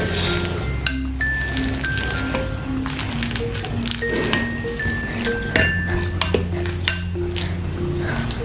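Ripe bananas being mashed with a masher in a bowl, producing irregular clinks and soft squishing taps, a close and moderately loud sound with no talk over it.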